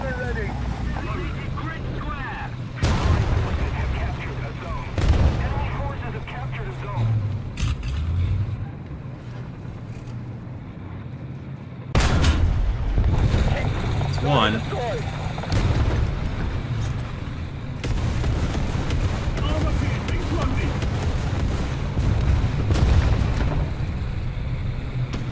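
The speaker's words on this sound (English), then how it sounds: "Couldn't hear him over all that artillery." Artillery and cannon fire in the War Thunder video game, including an M64 tank, booms heavily in repeated blasts over rumbling engine noise, loud and near, with someone talking over it.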